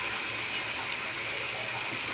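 A small splash of water goes into a simmering potato slice curry, making a soft, steady watery hiss and gush at close range, with no talking.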